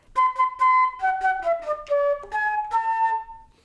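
A solo flute plays one measure, about eight clear, close notes in a steady rhythm that dip in pitch, then rise again and end on a held tone.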